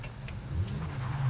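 A van drifts in the BeamNG driving game, its engine droning low and loud with a brief rising whine over a short burst of driving.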